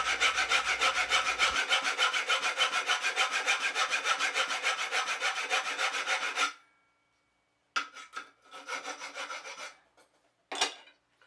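Wooden threads are filed by hand with a file in a long run of steady, rhythmic rasping strokes, then after a pause come a few shorter bursts of filing, all close and alone with no talking.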